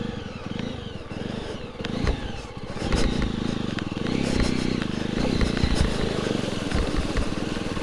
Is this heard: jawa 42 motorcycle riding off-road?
yes